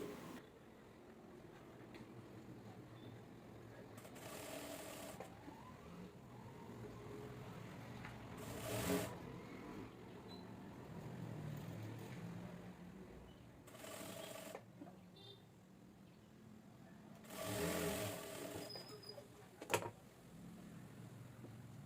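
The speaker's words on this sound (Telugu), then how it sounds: "ఇప్పుడు దీన్ని లోపలికి మర్చుకుంటూ నాలుగు మూలల కుట్టు వేసుకోవాలి" A sewing machine stitches the four corners of a short kurti in several short, quiet bursts separated by pauses, set against a faint room background.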